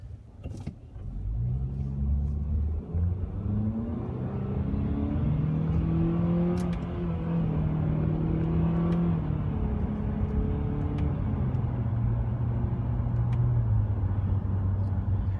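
A 2016 Honda Accord Sport pulls away from a starting line using paddle shifters. The engine revs climb steadily in several gear stages, loud and close from inside the car with no talk.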